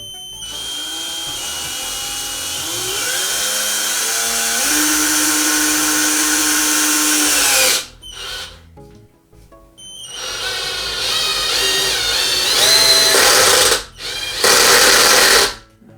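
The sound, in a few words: small cordless drill driving screw into beech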